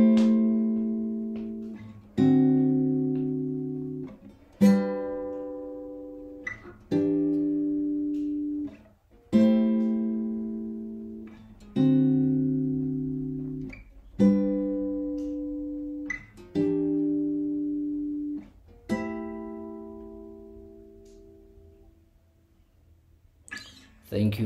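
Guitar strums the chord progression of an interlude, moving through minor and major seventh chords, each chord struck and left ringing for about two seconds in a slow, even sequence with no talking.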